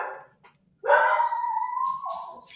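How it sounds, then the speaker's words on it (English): A dog at home barks at the postman with one long, drawn-out howling cry, loud and close, after a brief quieter yelp. "The dog agrees."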